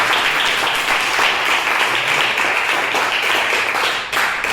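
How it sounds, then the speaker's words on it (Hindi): Audience applause in a student seminar hall, a dense sustained wash of many hands clapping that carries steadily from start to finish with only a brief dip near the end. "अच्छी बात पे तालियां होंगी।"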